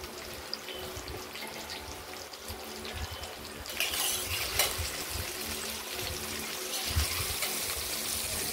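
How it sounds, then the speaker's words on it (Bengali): Potatoes fry in a pan with salt and turmeric, giving a steady, close sizzle that grows louder and busier partway through. "আলুগুলো ভাজা হচ্ছে"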